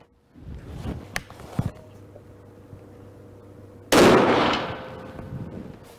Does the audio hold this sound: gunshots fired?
yes